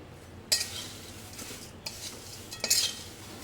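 Nylon poha being stirred and mixed in a pan, with a few sharp scraping strokes of a spoon against the metal over a soft, quiet sizzle.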